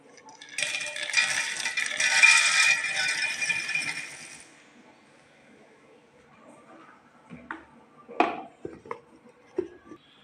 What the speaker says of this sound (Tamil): நிலக்கடலையே தொலி எடுத்து வச்சுருக்கேன் இதை இனி மிக்சியில் போட்டு அரைச்சிடலாம்